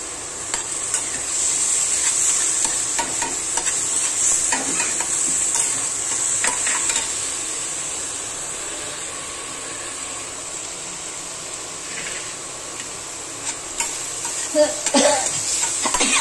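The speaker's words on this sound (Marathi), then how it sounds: "तेलामध्ये ना चटणी चांगली भाजून द्यायची." Green chili chutney with onion roasting in hot oil in a pan, giving a steady bright sizzle broken by scraping stirs from a spoon.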